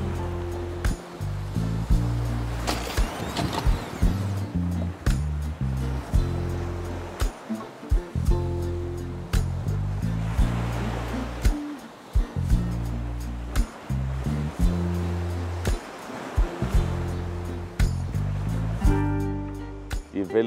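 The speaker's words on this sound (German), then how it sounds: "Die Welle türmt sich langsam ein bisschen auf." Atlantic Ocean waves surging and washing in a continuous churning roar, with bursts of rushing water and low wind rumble close by, at sea during an ocean crossing.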